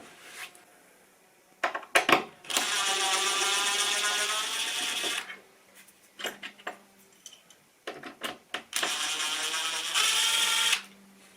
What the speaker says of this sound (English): we'll get the screwdriver on that, pull it out